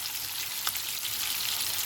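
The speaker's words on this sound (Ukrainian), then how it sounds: "Поки рибка наша смажиться" Crucian carp frying in a pan, giving a steady, close hiss of sizzling oil with a faint crackle, heard alone without talk.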